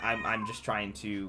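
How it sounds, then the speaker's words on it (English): A pet cat meows twice indoors, close and fairly loud, with a person talking at the same moment. "That was my cat, by the way."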